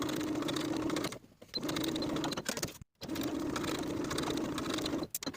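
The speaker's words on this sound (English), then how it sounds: "Sew with a 5/8 inch seam allowance and press the seams open." A sewing machine stitches the shoulder seams of a top's bodice at a 5/8 inch seam allowance, running close and steady in a few stretches with brief stops.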